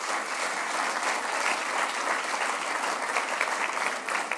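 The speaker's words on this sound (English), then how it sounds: "Round of applause for Guy and all the work that he does." An awards-ceremony audience at the Royal Automobile Club applauds, dense sustained clapping from many hands that stays loud and even throughout.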